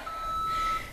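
A workout interval timer in a real-time total-body HIIT session gives one sustained electronic beep lasting most of a second, clear and steady against a quiet background with no talk.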